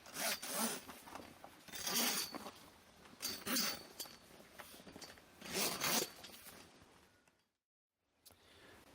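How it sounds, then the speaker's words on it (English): A zipper on a TrimLine awning's canopy cloth rasps through several close, quiet pulls in quick succession, then falls silent. "it's just a matter of sliding the end into the zipper and pulling across"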